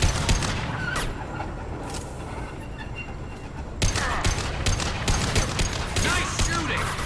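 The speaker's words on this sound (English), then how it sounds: "Firing a high-impact shot." Gunfire in Mass Effect 2, a sustained barrage of loud shots and impacts across the whole stretch, with a sharper, heavier burst partway through, set among game combat noise.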